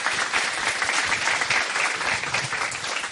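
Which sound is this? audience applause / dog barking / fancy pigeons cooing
audience applause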